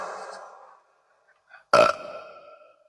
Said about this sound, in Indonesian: Coba Anda makan babi, habis itu bersendawa.